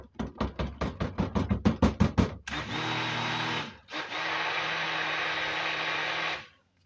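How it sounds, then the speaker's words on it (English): A powerful stick blender works goat milk soap batter with tussah silk and essential oils: a quick run of rhythmic knocking taps, then two sustained, steady whirring bursts of the motor separated by a brief pause. "This stick blender is so powerful that, oh my gosh, it's actually a little bit too much, I think, for soap"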